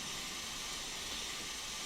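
Steam locomotive BR Black 5 blowing off steam in Train Simulator, a loud, steady, continuous hiss with a rough roar underneath, unbroken throughout.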